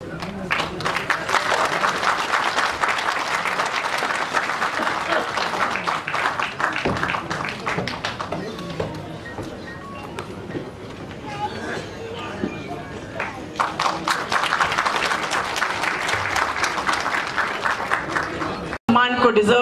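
An audience in an auditorium hall applauds to welcome a minister at a Kajari festival in Dadar, a sustained dense clapping that thins in the middle and then swells again, with a voice speaking over it.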